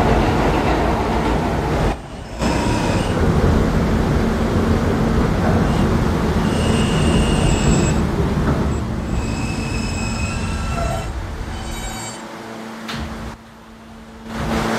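A Roblox R160A subway train on the K line rolls steadily along the rails near 33rd Street, a continuous loud rumble with wheel squeal and clickety-clack, a brief pause in the noise around the middle and another near the end.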